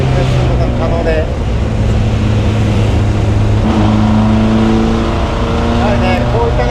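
A Fiat 1100B Sport Barchetta's engine pulls steadily while accelerating downhill on a winding road, a loud continuous drone with a rising note.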